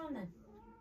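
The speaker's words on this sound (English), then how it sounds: "We got a cat crying outside the door because they can hear boxes" A cat cries once outside a door, a short falling meow at moderate distance, fairly faint, fading into room quiet.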